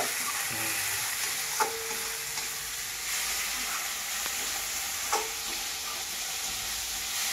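Shrimp and ridge gourd fry in a pan, a steady close sizzle and hiss with occasional stirring scrapes and soft clinks of a spatula, continuing without talk.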